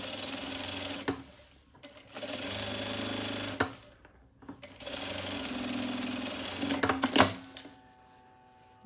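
A sewing machine runs in bursts of stitching as a small zippered pouch is sewn with a fine seam along the edge, fabric right side to right side. Several steady mechanical runs separated by short pauses and handling sounds.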